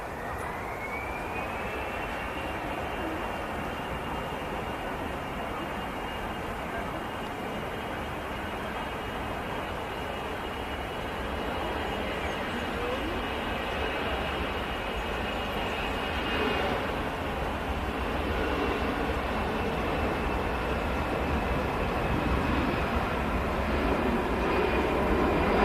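An easyJet airliner at Manchester Airport starts its takeoff roll, a steady broad jet roar with a rising whine that builds gradually in loudness over about twenty-five seconds, heard from the ground nearby.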